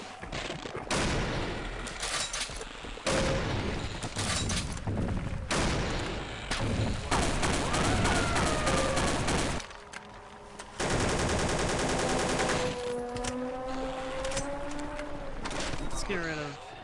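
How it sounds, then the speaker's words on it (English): A railgun anti-materiel rifle fires repeatedly in the Half-Life: Caged game, producing loud, dense, crackling bursts separated by brief gaps, with a rising whine between shots while someone talks over it. "It's the power of the railgun. The anti-materia rifle."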